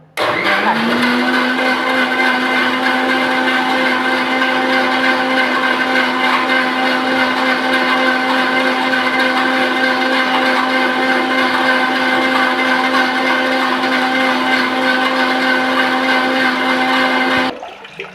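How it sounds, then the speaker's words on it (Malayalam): A mixer grinder blending lime juice with water in a juice jar whirs loud and steady, spinning up at the start, holding a constant motor drone for about seventeen seconds, then cutting off abruptly. "ഇനി നമുക്കത് നല്ലപോലെ ജ്യൂസ് നല്ല മിക്സിയിലിട്ട് നന്നായിട്ടൊന്ന് അടിച്ചെടുക്കാം."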